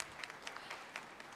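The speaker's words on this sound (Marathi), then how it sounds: "बापरे, एकदा जोरदार टाळ्या व्हायला पाहिजे." Faint, distant applause rises from an audience at a farmers' meet awards ceremony, a soft patter of many hands clapping steadily in a large space.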